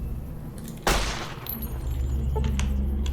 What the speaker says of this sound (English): Let's test out this weapon.